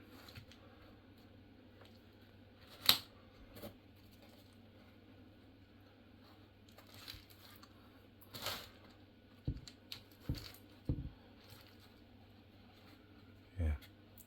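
Scissors snip at the roots of a fig bonsai during repotting, giving faint, sparse clicks and snips spread through a quiet stretch, with a few slightly louder cuts toward the end.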